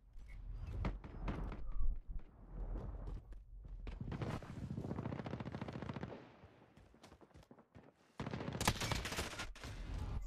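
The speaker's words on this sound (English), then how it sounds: "someone was shooting me from behind" Video game gunfire, with loud close bursts of rapid automatic fire that come in clusters and a short pause before another burst near the end.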